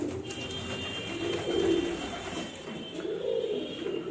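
Pigeons coo softly in low, rolling phrases, repeating every couple of seconds over a quiet background hum.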